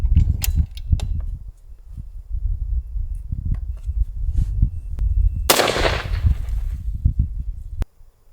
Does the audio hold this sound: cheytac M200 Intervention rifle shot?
yes